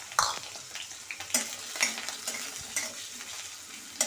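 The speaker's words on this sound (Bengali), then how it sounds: "এবার ওই তেলে আমি আলুগুলো ভেজে নেব।" Potatoes frying in oil in a pan, a soft continuous sizzle broken by scraping stirs and occasional utensil clinks against the pan, fairly quiet and close.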